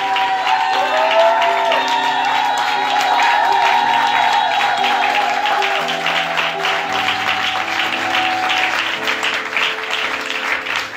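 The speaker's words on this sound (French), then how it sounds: "Nous lui rendons la gloire par des acclamations" A church congregation applauds and cheers at a worship service: sustained, dense clapping that continues throughout, mixed with sustained keyboard or organ-like music.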